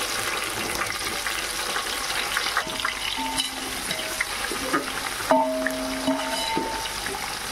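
Onion sizzles in oil with whole spices, black and green cardamom and bay leaf, for a chicken biryani gravy, a dense continuous frying hiss with a few short tonal squeaks and stirring scrapes near the end.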